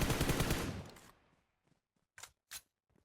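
Automatic gunfire in PUBG as an enemy is shot down: a dense, loud burst of rapid shots that cuts off, followed by two short separate bursts after a pause.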